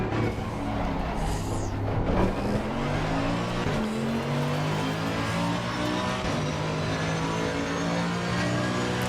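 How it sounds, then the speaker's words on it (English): Mercedes AMG race car in Assetto Corsa Competizione, its engine revving loud and sustained through rising and falling gear sweeps, with a brief tire squeal. "you know it's a Mercedes AMG when you hear that"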